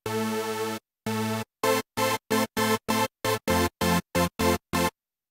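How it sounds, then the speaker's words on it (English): A super saw synth from a super oscillator engine plays bright, buzzy chords in a rhythmic pattern: two longer held stabs, then a rapid series of short, evenly spaced hits, loud and alone. "Normally it's specialized for super saw sounds, which typically sound like this."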